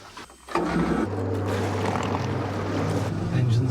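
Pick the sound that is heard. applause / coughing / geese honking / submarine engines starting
submarine engines starting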